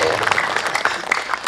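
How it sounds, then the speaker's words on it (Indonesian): Audience applause at an Islamic religious gathering with dhikr and a sermon at a pesantren, a dense wash of claps filling the room steadily and fairly loud, with some voices mixed in. "Tepuk tangan tuh."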